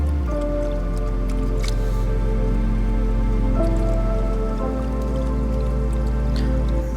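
Pay dirt being panned for gold in water, with continuous close sloshing, swirling and dripping as the pan is tilted back and forth, no talk.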